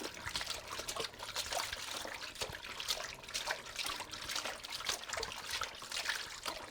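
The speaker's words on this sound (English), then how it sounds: "start the cycle and allow the washing machine to rinse the clothes in the very light blue water" A washing machine rinses white clothes in light blue bluing water, giving a steady, close trickling and sloshing of liquid that runs without a break and with no voices.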